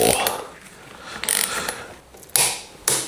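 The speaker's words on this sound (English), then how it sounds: "I have to dig out my extra big torque wrench for that much." A large torque wrench tightening a rear pivot bolt on a full-suspension mountain bike to 54 newton meters, with close, loud ratcheting clicks in short bursts and a sharp click near the end.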